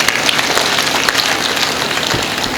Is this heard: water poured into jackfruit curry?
no